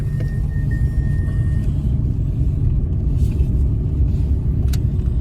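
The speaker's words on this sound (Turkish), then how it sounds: "arabayı şimdi e, yolda bir deneyeceğiz, test edeceğiz" A Mazda RX-8 with a swapped turbocharged Honda K24 engine drives along a road with a steady low engine rumble and road noise, continuous and fairly loud, no voices.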